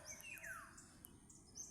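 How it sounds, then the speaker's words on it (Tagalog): A yellow bird gives a few thin, high chirps and a short descending whistle, faint and somewhat distant against quiet background hiss. "It's a yellow bird."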